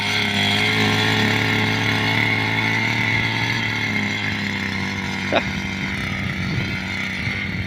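Forte MKB-25LUX motor cultivator, still being run in, chugs at a steady low throttle close by, its engine drone continuous and loud throughout with a brief sharp click partway through.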